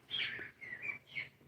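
Pet bird named Pretty Bird chirping in a few bright, close tweets, with short phrases and brief pauses between them, alone with no talking.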